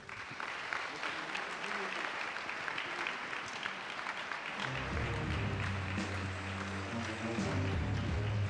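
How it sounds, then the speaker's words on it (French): An audience at an evening award event applauds to welcome the night's winner, a dense, sustained clapping that swells louder about halfway through, with a low hum underneath. "accueillir sous vos applaudissements le vainqueur de la soirée"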